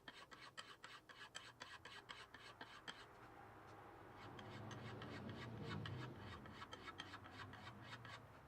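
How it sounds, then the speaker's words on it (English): A file rasps in quick repeated strokes along the side of a guitar fretboard, taking off cured excess superglue. The strokes are faint and close, with a short pause partway through before the scraping resumes in a steady rhythm. "I use a file to remove any excess that's protruding from the side of the fretboard"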